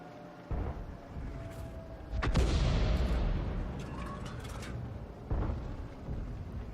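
An M44 self-propelled artillery gun fires in World of Tanks: a loud booming shot with a sharp crack followed by a rolling, fading rumble, then a smaller thud a few seconds later over low battlefield background noise.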